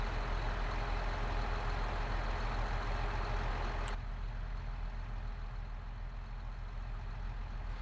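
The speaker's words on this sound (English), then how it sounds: "You can just simply turn the engine on. Oh, that's got a good sound." Farming Simulator 22 vehicle engine idles with a steady, heavy truck-like rumble, a brief click near the middle as the tone drops slightly quieter and continues running alone.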